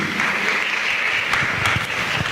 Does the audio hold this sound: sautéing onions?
no